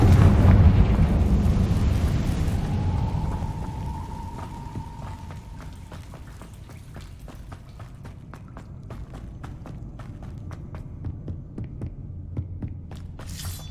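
Confringo spell explosion in the Hogwarts Legacy video game: a loud, deep booming blast rolls out and decays into a low rumble with a faint tone, followed by scattered sharp ticks and crackles.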